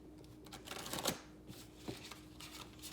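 A new Green Witch's Oracle card deck is shuffled by hand in quiet, close-up riffles and slides, with a few louder flurries of card flicks and no talking.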